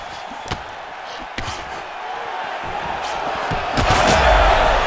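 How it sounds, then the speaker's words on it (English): Punches land in a UFC 5 fight simulation on PS5, Daniel Cormier against Joaquin Buckley, with a few sharp thudding impacts over a steady roaring arena crowd that swells louder toward the end. "He landed a massive hook to put his opponent on wobbly legs."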